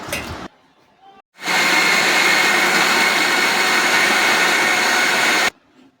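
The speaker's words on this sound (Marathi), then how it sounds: "सो याला मी ग्राइंड करून घेते" A mixer grinder whirs loudly and steadily as it grinds chopped vegetables into a paste for rava uttapam, running about four seconds alone before cutting off abruptly.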